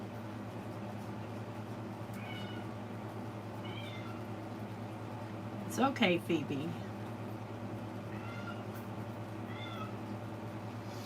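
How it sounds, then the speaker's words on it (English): A pet cat named Phoebe meows a few times indoors, short cries with one louder, wavering meow in the middle, over a steady appliance hum while someone speaks softly. "I know each cat's meow."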